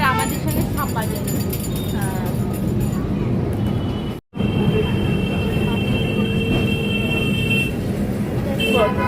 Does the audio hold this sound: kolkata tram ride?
yes